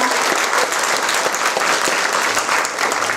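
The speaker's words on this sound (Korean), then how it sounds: "네, 다시 한번 큰 박수 부탁드리겠습니다." A large crowd at a political party members' rally in a community centre breaks into dense, sustained applause, loud and even throughout with no pauses, heard alone without talk.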